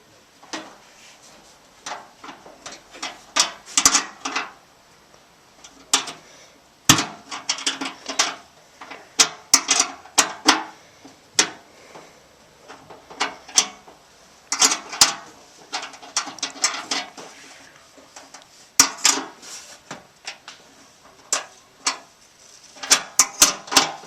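A 7/16 open-end wrench tightens a tube nut, giving a series of close, sharp metallic clicks and scrapes in irregular bursts, with quiet pauses between turns.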